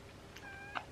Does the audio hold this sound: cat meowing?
yes